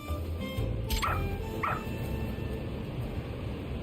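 Rampo the dog in Lost Judgment lets out a couple of short barks and yips over steady game background noise, with a low hum underneath.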